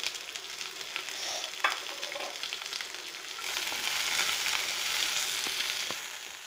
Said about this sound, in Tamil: வெங்காயம் போடுறாங்க, பச்சை மிளகா காஞ்ச மிளகாயும் போடுறாங்க